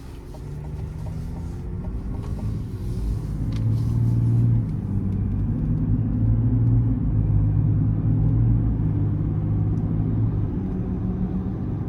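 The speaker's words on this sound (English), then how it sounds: "go ahead and take this Silverado Trail Boss out on the road for a quick test drive" A 2023 Chevrolet Silverado 1500 LT Trail Boss with the 3.0 diesel and 10-speed automatic drives on the road, its steady low engine drone rising in pitch as it accelerates and settling into a constant cabin rumble.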